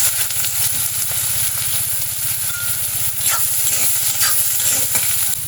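Carp roe frying in a hot pan, a loud steady sizzle with a fast rhythmic stirring pulse running continuously, close and alone without any voices.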